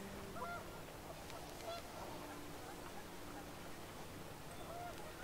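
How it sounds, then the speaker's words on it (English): Panicked geese honk in What Remains of Edith Finch, a steady wash of game ambience and wind with short honks scattered through it and a voice faintly present beneath. "The wind picked up and panicked geese appeared and quickly went."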